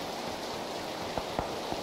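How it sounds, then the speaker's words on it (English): Rain falls over a beach in the video game PUBG, a steady close hiss of drops with a few soft louder taps near the end and no voices. "Yeah, it's raining."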